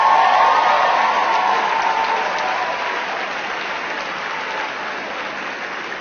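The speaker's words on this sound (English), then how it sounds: "Round of applause for Mayor Nutter" A large crowd applauds Mayor Nutter at an AmeriCorps 20th anniversary celebration, a broad, sustained roar of clapping that starts strong and slowly fades.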